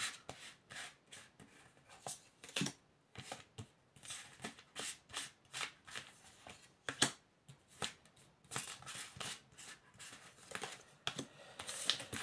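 Tarot cards being shuffled by hand, a long run of soft riffling bursts repeating in an irregular rhythm, close and fairly quiet.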